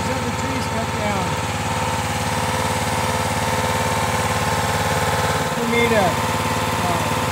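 A tractor engine idling steadily close by in a snowy yard during cleanup work, a constant low rhythmic rumble throughout with someone talking over it.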